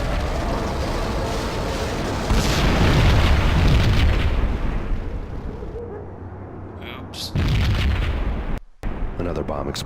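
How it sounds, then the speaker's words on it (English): A bomb blasts inside a slum building in the Max Payne game, a loud rumbling explosion swelling and fading, followed by another burst, with someone narrating over it. "Another bomb exploded inside the closest slum building"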